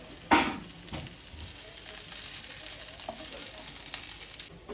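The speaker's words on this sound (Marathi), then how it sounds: "हे बघा छान क्रिस्पी असे भाजून घ्यायचे त्याला." Fish pieces frying crisp in a pan, a steady close sizzle with stirring clatter, a sharp utensil knock at the start and faint scrapes later, no talk over it.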